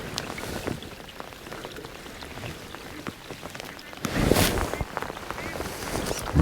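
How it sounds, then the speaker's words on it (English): Rain patters down at Hallcroft Fisheries during a live match fishing session. The soft, steady drops grow heavier in a louder burst partway through. "Rain's turned up again"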